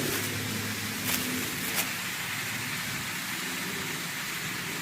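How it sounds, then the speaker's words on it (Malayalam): A hose rain irrigation line sprays water over garden plants, making a constant rain-like hiss that holds steady throughout, with a couple of faint ticks and no speech. "ഇതുപോലെ മഴ പെയ്യുന്ന പോലെ തന്നെ ചെടികൾക്ക് മുകളിലൂടെ വെള്ളം സ്പ്രേ ചെയ്ത് താഴേക്ക് വീഴുന്നു"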